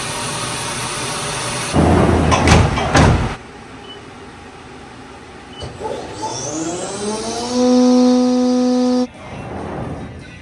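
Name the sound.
CNC ball mill smoothing a motorcycle handlebar riser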